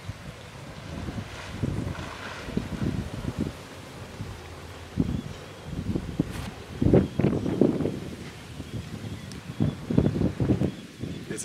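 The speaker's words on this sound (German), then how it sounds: "richtig windig" Strong gusty wind high in the Black Forest near St. Peter, buffeting and rustling in uneven bursts close to the microphone, with no talk.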